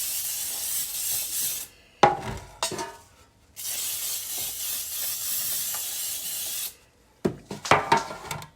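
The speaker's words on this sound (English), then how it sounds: "I'm going to use some loaf pans and spray with cooking spray." Two long, steady hissing sprays of an aerosol cooking spray into loaf pans, each a few seconds, separated by brief clattering of the metal pans being handled nearby.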